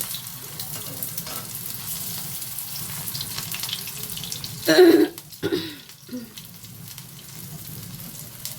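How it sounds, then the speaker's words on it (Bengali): Potato tikka balls fry in a hot pan with a steady sizzle, and a sharper burst of spattering comes near the middle. "বলগুলো ঠিক এইভাবে তোমাদের ভেজে নিতে হবে।"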